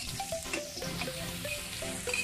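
Onions frying in oil with spices in a pan for a snake gourd and egg stir-fry, giving a steady, close sizzle with bubbling crackle throughout.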